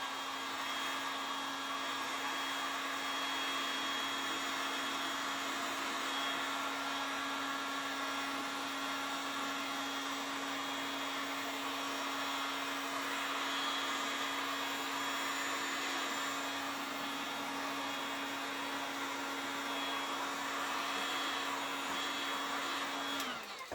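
A hair dryer runs steadily and close by, blowing on a fresh coat of weatherwash finish on wood, with a constant whirring hum and airy hiss that stays even for the whole stretch before cutting off at the end.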